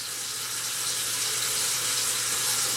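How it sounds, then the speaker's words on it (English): Water running from a sink faucet after a clogged drain and weak faucet are fixed, a steady, full hiss of flowing water, close and continuous with no voices. "So I'm going to turn the water on."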